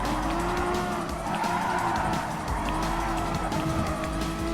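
A Renault Megane Trophy race car in Gran Turismo Sport, its engine holding a steady, loud whine throughout with tyre squeal and skidding noise mixed in as it drives hard on track.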